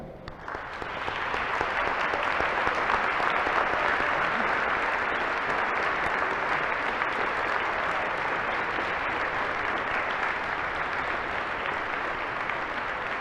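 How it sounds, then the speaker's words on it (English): At a Veterans Day program, an audience breaks into applause for standing veterans; the dense clapping swells within a second and stays full and sustained to the end. "could you please stand for a round of applause?"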